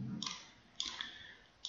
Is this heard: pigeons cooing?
no